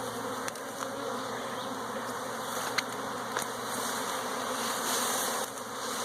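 A swarm of bees buzzes around a small elm tree where they are landing, a dense steady drone close by that runs throughout, with a few sharper passes as individual bees fly near.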